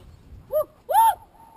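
A raven calls twice from down in a desert canyon on the Observation Point Trail, a short croak followed by a longer, louder one, with faint wind and quiet ambience between the calls and no voices.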